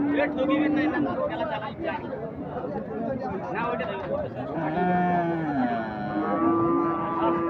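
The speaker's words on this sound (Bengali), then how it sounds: "চমৎকার একটা ফ্রিজিয়ান ষাঁড় বাছুর" A Friesian bull calf at a cattle market (Ambari haat) gives several loud, drawn-out moos, close by, over steady crowd chatter and murmuring voices.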